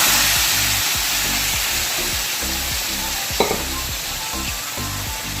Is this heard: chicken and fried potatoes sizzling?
yes